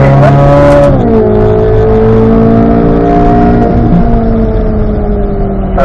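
A race car accelerates hard in fourth gear along a circuit straightaway, its loud engine note holding a steady rising pitch after an early shift, continuous and close with no talk.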